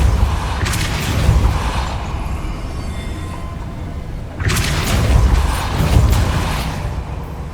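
A Depulso force spell goes off in Hogwarts Legacy on PS5 as two heavy booming blasts with a rumbling mechanical creak, the first rolling through the early seconds and the second surging in about halfway, loud with no talking.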